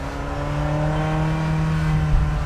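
A 1989 Ferrari Mondial T's V8 engine drones steadily while driving, a loud sustained low growl with slight rises in revs and no talk over it.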